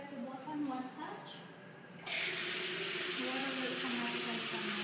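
Warm water gushes steadily into a reflexology foot basin at a hotel spa, starting suddenly and continuing as a loud, close rush, with voices talking before and under it.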